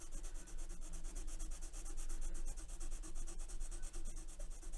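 Hard pencil scratching across paper while swatching, close and dry, a continuous raspy rubbing with short strokes and no talk.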